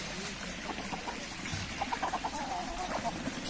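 Several chickens cluck in a quick run of short notes close by, with a voice talking underneath and steady outdoor background noise.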